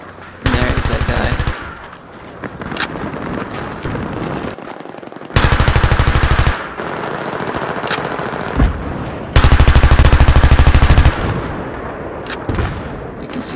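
Automatic gunfire sprayed in the video game Battlefield 3, three long rapid bursts, loud and close, separated by quieter stretches where someone talks over background game sound.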